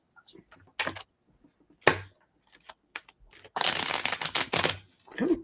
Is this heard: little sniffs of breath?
no